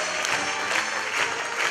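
An audience at the Rotonde claps in a steady, dense round of applause that stays even from start to end, at a moderate distance.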